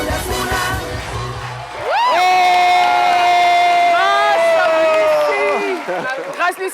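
Crowd cheering and shouting at a lively Easter event, a loud roar of voices with sustained high-pitched whoops and yells from many people, including children, swelling after a brief murmur and continuing throughout.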